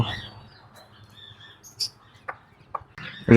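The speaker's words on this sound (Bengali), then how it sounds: "এখানে আর মুরগি আছে লেয়ার মুরগি" Layer hens clucking softly in a backyard, with a few short, scattered clucks and chirps over a quiet background.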